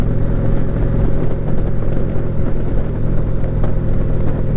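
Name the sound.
motorcycle exhaust while riding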